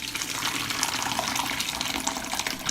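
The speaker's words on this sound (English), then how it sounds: "I put cheesecloth on the colander and strain the cheese." Liquid pours and splashes steadily as cheese is strained through cheesecloth on a colander set over a pan, a close, continuous watery hiss without pause.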